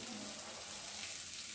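Onion and tomato sautéing in a pan for corn masala give a steady, soft, continuous sizzle, close and low in level, with no voice.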